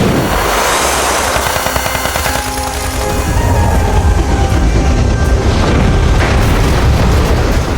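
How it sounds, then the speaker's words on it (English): A smoke bomb effect in a Star Cops audio drama: a loud, sustained burst of booming, crackling blasts with a hissing rush that fills the whole clip, close and powerful, without any voices. "Smoke bomb!"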